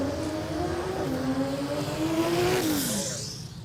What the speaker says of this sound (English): I can hear Page's blower whine from here. So much blower whine